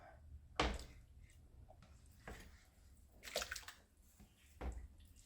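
Pieces of pork drop into a pan of liquid with a few soft, brief splashes and sloshes, quiet and close, with no one talking.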